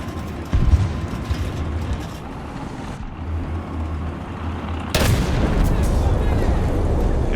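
A T-72B3 tank's main cannon fires in a video game: two heavy, booming blasts a few seconds apart, each over a constant low engine rumble and battlefield noise.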